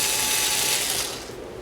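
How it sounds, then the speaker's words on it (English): A screwdriver backs out screws from the bottom of an Akai GX912 cassette deck chassis, making a quick ratcheting click close up that fades toward the end. "I should be able to remove the deck on this one by just removing a couple screws in the bottom here"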